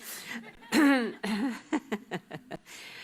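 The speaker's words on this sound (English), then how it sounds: "excuse my coughing and all of that" A single harsh cough near the microphone, followed by a string of short throat-clearing bursts.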